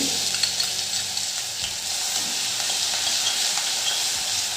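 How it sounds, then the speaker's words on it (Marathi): Cumin seeds and coarsely crushed chili fry in ghee for a Navratri fasting potato dish, a loud continuous close hiss and crackle that holds steady throughout with no voices. "तुपात मी जिरे टाकते मिरची जाडसर कुटलेली टाकते"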